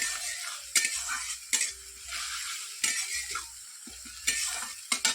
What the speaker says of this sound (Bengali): পেঁয়াজটা একটু ভালো করে ভাজা হবে।